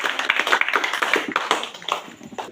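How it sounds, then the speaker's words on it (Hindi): An audience at a rural youth organisation meeting in India applauds to welcome the chief guest, with a dense, close, continuous patter of hand claps that thins slightly near the end. "जोरदार तालियों से स्वागत करेंगे।"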